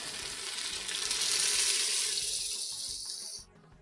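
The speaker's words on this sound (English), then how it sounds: "now is the time where we add water." Water poured into a hot pot of homemade curry, hissing and sizzling loudly for about three seconds before cutting off abruptly, heard close with no talking.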